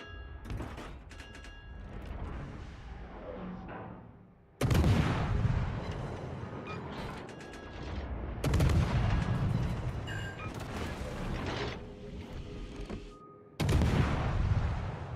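Guns of the destroyer HMS Lightning firing in a naval warfare game: several sharp, loud booming salvos with abrupt onsets, each trailing into rumbling decay, separated by quieter mechanical background.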